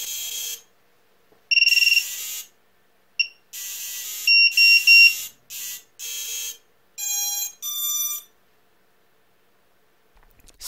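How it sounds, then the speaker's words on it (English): Drone motors driven by BLHeli_32 ESCs beeping out a custom startup melody, a sequence of loud, clear electronic tones in short bursts with gaps, alone without talk. "how to do those drone startup tones"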